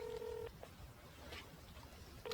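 A telephone ringback tone on a call, one short steady burst at the start and the next just beginning at the end, faint with a quiet gap between.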